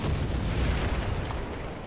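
A tank in the War Thunder combat game launches smoke grenades, producing a loud, dense booming burst that rolls into a steady heavy rumble with no voices.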